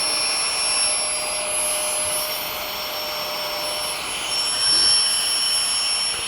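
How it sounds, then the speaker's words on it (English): A Flextail Gear electric air pump runs continuously at close range, a loud, steady high-pitched whirring hiss that barely changes over several seconds, with no talking. "These flex gear pumps."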